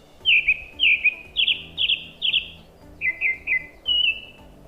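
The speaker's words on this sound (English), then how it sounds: "in the background, you can hear birds gently chirping, adding to the atmosphere." A single bird sings clear, repeated chirping phrases in a steady rhythm, close and distinct against a quiet background, on a Swiss mountain trail.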